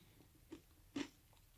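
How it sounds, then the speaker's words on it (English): Bread crust made without electricity gets bitten and chewed, producing two short crunchy bites about half a second apart against a quiet background, the second louder and sharper. "Nice crunchy crust on the bottom."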